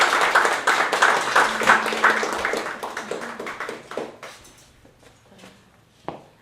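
An audience at an academic book launch claps in a round of applause that is loud at first and then thins out and fades, ending with a few scattered claps and a single late clap.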